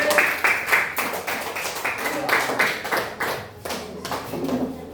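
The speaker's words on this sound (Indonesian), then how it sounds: "Tepuk tangan kasih kelompok satu dulu." A small group claps for group one during a computational thinking training session, with uneven, close hand claps and taps rising and falling in loose bursts, and voices mixed in.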